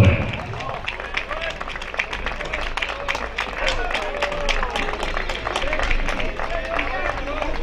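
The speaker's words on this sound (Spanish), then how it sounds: "Y damos un fuerte aplauso a los campeones de esta noche." Audience applause at a rodeo in Club Llanquihue, dense clapping sustained throughout with crowd murmur, fairly loud and steady over the whole stretch.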